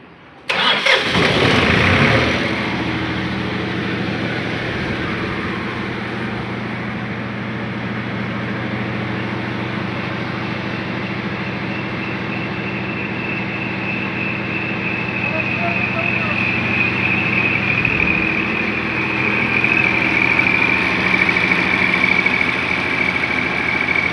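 A diesel generator with one faulty injector cranks and fires loudly, then settles into a steady, even idle that drones on for over twenty seconds.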